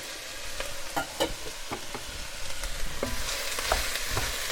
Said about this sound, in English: as soon as that's hot, we're going to add our onions, our carrots, and our diced celeriac